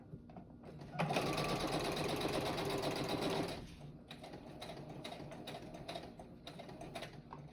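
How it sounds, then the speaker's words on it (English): A sewing machine runs a back stitch on a paper envelope, loud rapid needle chatter for a few seconds, then a softer, slower stretch of mechanical ticking and clicks nearby. "Just going to do a back stitch on each side."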